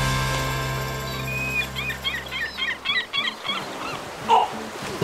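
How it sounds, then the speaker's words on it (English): A series of short, repeated bird calls rings out over a steady low hum, with a brief louder cry near the end, like gulls squawking nearby. "It was a seagull."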